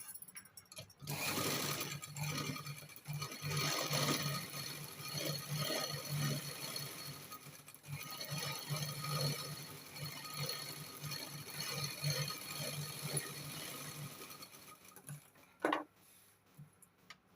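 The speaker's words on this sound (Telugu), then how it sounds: "ఇప్పుడు స్టిచ్ లాగేద్దాం." Sewing machine stitching a cloth lining for a pleated sleeve design, running steadily with a busy mechanical whir and ticking for most of the stretch, pausing briefly, then a sharp clack near the end.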